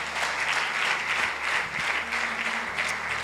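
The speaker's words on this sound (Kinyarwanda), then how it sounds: "Amashyi menshi ku Mwami Yesu Kristo" A church congregation gives sustained applause to Jesus Christ during a sermon. Dense, even clapping fills the room from start to finish as a steady wash with no pauses.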